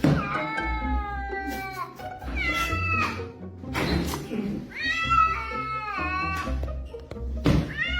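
A cat yowls and meows repeatedly in long, loud, wavering cries close by, with some thumps and thuds mixed in.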